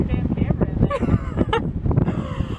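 Wind rushing out of the cave entrance at Wind Cave National Park, a steady close roaring gust buffeting the microphone while people talk excitedly over it.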